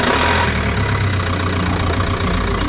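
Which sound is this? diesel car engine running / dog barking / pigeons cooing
diesel car engine running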